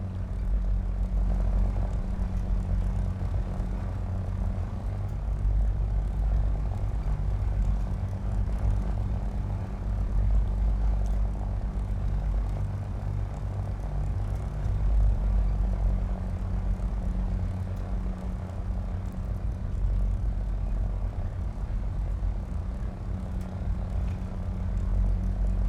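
The P-38G twin-engine fighter in War Thunder, a steady low propeller-engine drone that hums continuously and evenly, loud and close, with no speech over it.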